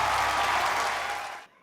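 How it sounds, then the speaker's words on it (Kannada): A loud burst of audience applause for 24 contestants at a cooking-show presentation ceremony, a dense, even roar of clapping that cuts off abruptly near the end. "only ಜೋರ ಚಪ್ಪಾಳೆ for all the 24 contestants"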